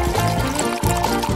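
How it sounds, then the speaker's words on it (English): Coca-Cola poured onto a plate, a loud continuous glugging pour with bubbling fizz and a brief break partway through before the stream resumes. "Let's pour some Coca-Cola on a plate."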